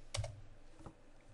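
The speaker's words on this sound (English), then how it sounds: "type in my move command" Two quick, soft keystrokes on a computer keyboard enter a drafting command, close by and quiet with no voices.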